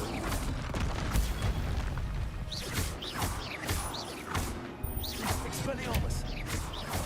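Confringo spell blasts in Hogwarts Legacy, a string of booming crashes and whooshes going off repeatedly over a dense, busy game soundscape.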